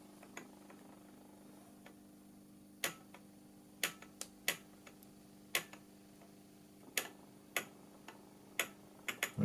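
Sharp, irregular ticks from the torquer of a 9E420 radar seeker rate gyro on a bench, about a dozen clicks spaced a second or less apart over a faint steady hum, close and quiet, with no speech.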